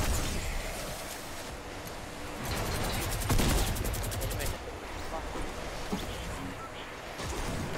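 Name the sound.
minigun firing in a video game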